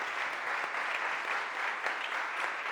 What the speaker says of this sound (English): Please give our Council President another round of applause.